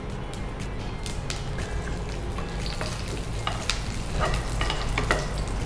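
Mustard seeds and curry leaves splutter and crackle in hot oil in a pan, with steady close sizzling and scattered sharp pops throughout, no voices.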